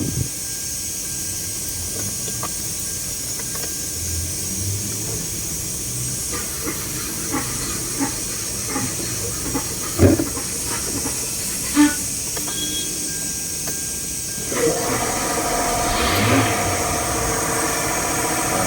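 A Kia Soul or Hyundai Accent engine, just repaired after a leaking fuel pump in the tank, cranks and catches. A steady hiss-like running noise with scattered clicks builds to a louder, busier roar near the end, with no talk.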